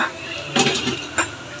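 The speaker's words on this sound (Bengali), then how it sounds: "আমার আরেক ব্যাচ ভাজা হয়ে গেছে, আমি এখন নামিয়ে নিচ্ছি" Metal utensils clink twice against a frying pan as fried potato snacks are lifted out, two short clattering knocks over a steady background hiss.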